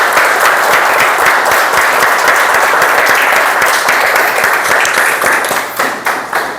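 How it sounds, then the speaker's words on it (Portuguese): An audience at a Bible study group presentation applauds loudly and steadily for several seconds, many hands clapping in a dense wash that begins to thin out at the very end. "Vamos aplaudir o estudo de todos"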